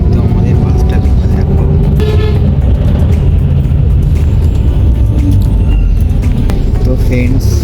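A bus travelling on the road toward Digha, near Kolaghat, drones with a steady, loud, close engine rumble throughout, with a few faint horn toots and some voices.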